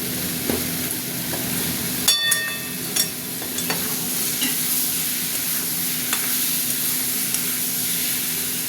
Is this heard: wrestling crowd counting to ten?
no